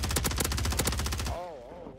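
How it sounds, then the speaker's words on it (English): Rapid automatic gunfire in Warzone 3, a dense burst of loud shots in quick succession lasting over a second, then a warbling electronic tone as the firing stops. "He's getting shot at."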